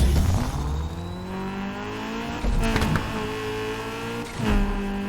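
Video-game car with an 8-speed gearbox driving hard, engine revving and climbing through gears with clear shift drops around two and four seconds, loud and close, tire noise mixed in, no voices.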